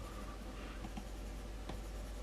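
An Apple Pencil 2 tip scratches faintly across a screen protector on an iPad Pro, a soft close scraping with a few brief strokes standing out in a quiet room.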